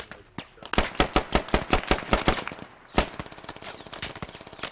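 Fast, loud bursts of automatic gunfire in the military shooter Squad, a steady run of close shots followed after a short pause by a denser, quieter rattle of distant fire.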